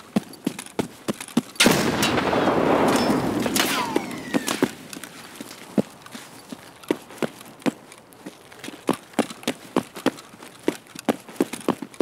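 Gunfire and grenades in Escape from Tarkov: a muffled grenade blast with a rumbling tail, then a long run of sharp, evenly spaced gunshots, fairly loud.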